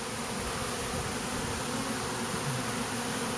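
A honeybee swarm buzzes densely and continuously as the bees fan their wings while moving into a custom hive, a close, steady, full drone with no talk.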